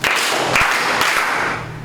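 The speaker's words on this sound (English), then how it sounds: "Claps to her 3 beats" A classroom group in a mathematics lesson claps together in three quick, roughly evenly spaced beats that ring briefly in the room.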